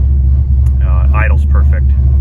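A 1989 Ford Mustang LX with a 347 stroker engine idles with a deep, loud, steady rumble up close while someone talks over it.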